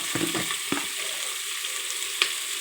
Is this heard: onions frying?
yes